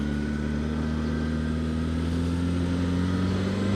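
Kawasaki ZX6R motorcycle rolling through third gear, a continuous loud engine drone with steady tones under wind rush, no talk.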